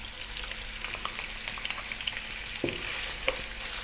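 Pieces of lamb and onion fry in a pan just above medium heat, a steady soft sizzle with occasional spatula taps and stirring clatters, heard up close and without talk.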